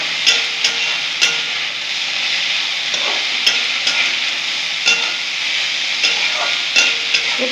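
Papaya curry stirred and frying in a pan with turmeric, a steady close sizzle broken by repeated scraping strokes of a spoon at an irregular rhythm, with no talking.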